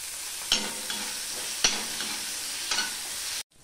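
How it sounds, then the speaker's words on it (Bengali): Onion, bay leaf and garlic fry in a pan for a Bengali egg curry, giving a steady close sizzle broken by a few sharp stirring scrapes, with no talk. "এখানে যে পেঁয়াজ আর তেজপাতা রসুনের একসাথে যে আমি ফোড়ন বা ভেজে নিচ্ছি"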